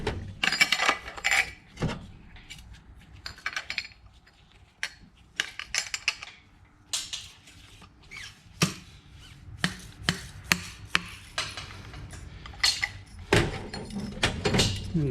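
Work on Yamaha YZ450F motorcycle forks, driving an oil seal home with a seal driver: a long run of sharp metallic taps and knocks, irregular and close, with quiet gaps between strikes.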